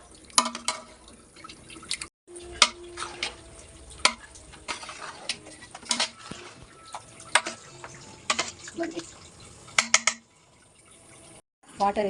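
Chicken dum biryani masala is stirred in a pot. Sharp spoon scrapes and clinks come in irregular bursts over a soft, wet simmer, with brief pauses between them.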